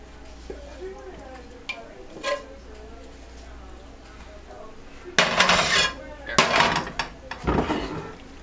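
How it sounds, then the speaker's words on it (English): Enchilada filling mix gets spread over the top in a pan, heard as scraping and clattering of a utensil against cookware, quiet at first and then louder scraping strokes in the second half, with a voice talking at times. "I'm just gonna spread it all on top."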